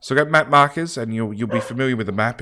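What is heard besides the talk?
No everyday noise stands out behind the speech.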